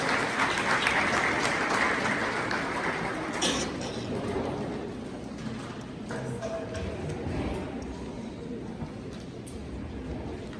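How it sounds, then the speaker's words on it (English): A round of applause rises from the audience at a high school official opening ceremony, loudest at the start and then gradually tapering into scattered claps and room noise. "a round of applause is coming"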